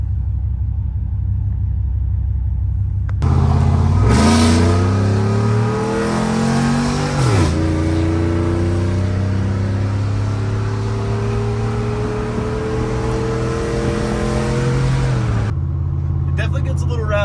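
A car fitted with Speed Engineering long tube headers accelerates hard with the windows down, a loud raspy exhaust roar climbing in pitch through several gear shifts, heard from inside the cabin.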